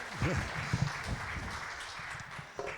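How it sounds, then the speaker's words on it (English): Applause from a congress audience in Thessaloniki welcoming hotel representatives onto a workshop panel, a brief dense wash of clapping at moderate distance after a short spoken word. "Yes, applause"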